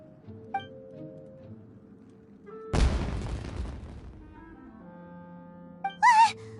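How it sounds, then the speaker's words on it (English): A loud, sudden burst of firework explosions erupts in the video game Genshin Impact, a broad crackling blast lasting about a second amid quiet game ambience, followed near the end by a brief bright whistling chirp. "It sounded like fireworks."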